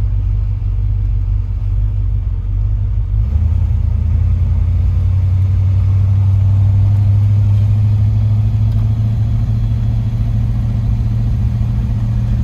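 A hot rod's engine holds a deep, steady rumble while driving in at low speed, loud and close with no talk.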